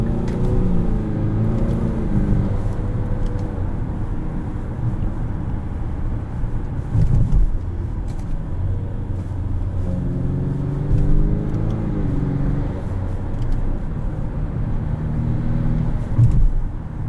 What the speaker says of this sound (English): if you're in manual mode and you keep the revs pretty low, there is a ton of turbo noise.